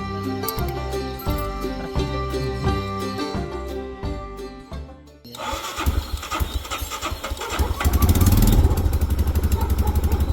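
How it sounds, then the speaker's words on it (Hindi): Motorcycle engine starting at a service centre at night, cutting over a loud rhythmic music track, then settling into a steady, close, loud running rumble with a sputtering throb. "यहाँ पे बाइक भी स्टार्ट हो चुकी है अभी"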